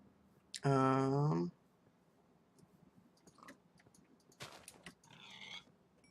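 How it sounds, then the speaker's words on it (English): Pigs oink in the Minecraft mod Better than Wolves, one long loud synthesized grunt up front followed by shorter, fainter snorts and clicky game noises, with a voice talking quietly in between. "Ah, pigs. There we are. I require your bacon."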